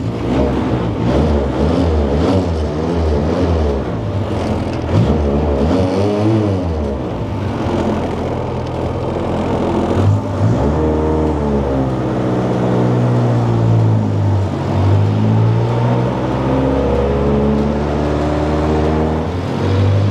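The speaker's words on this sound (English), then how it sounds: "What I'm doing right now is I'm warming the whole engine out without the fan on" A Formula Ford racing car engine warms up on a rolling road, its steady loud drone rising and falling in pitch as it is revved and eased off, running continuously throughout with no fan on.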